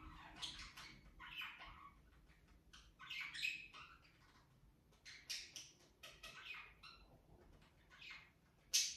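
Pet birds squawking and chirping indoors, a scattered series of sharp, fairly close calls in irregular bursts over low room noise, ending with one louder screech.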